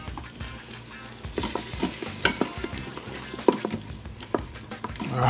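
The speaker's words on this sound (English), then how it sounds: "And we're gonna stir that up." Ginger paste and minced garlic sizzle in a hot pan while a utensil stirs them, producing repeated scraping and tapping strokes over a steady frying hiss, close and fairly loud, without talk.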